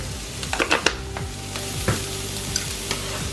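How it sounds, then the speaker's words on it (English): Carrots browning in a frying pan for bibimbap, steady sizzling with the scrape and clatter of stirring utensils against the pan, several sharp knocks early on, then a quieter, even crackle. "So now we are going to cook our carrots. So we are going to brown this"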